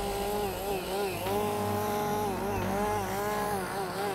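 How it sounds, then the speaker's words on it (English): Gasoline-powered chainsaws run steadily during wildfire firefighting, a continuous loud two-stroke drone with rising and falling revs, cutting close by without any talk. "This is to power the chainsaws."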